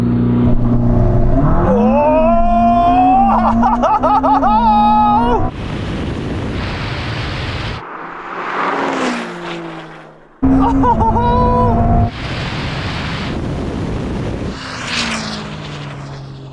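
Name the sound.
Ferrari SF90 and Porsche 911 Turbo S drag race launch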